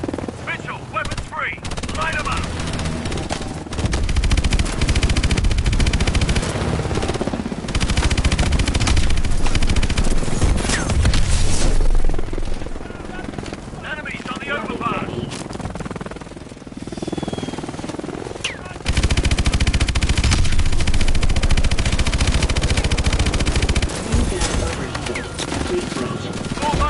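Heavy gunfire in a military video game, sustained machine-gun bursts and loud volleys rolling almost continuously alongside a helicopter's rotor drone, with radio voices talking over the din and a brief lull midway.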